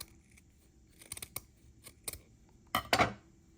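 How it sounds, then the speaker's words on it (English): Scissors snip through the yarn loops of a tassel in a string of quick close cuts, ending with two louder, crunchier snips. "I'm going to use different scissors to cut my loops."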